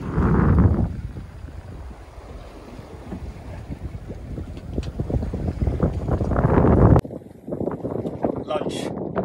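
Wind rushing over a sailboat at sea off Mexico, a steady loud roar with gusts and water wash throughout, briefly broken partway through and continuing.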